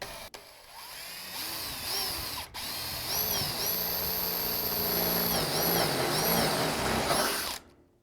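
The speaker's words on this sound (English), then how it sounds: "just a wee tap there to make sure the drill bit doesn't" A power drill runs steadily while boring into a cat-proof fence being installed, whining close and continuously for several seconds before cutting off.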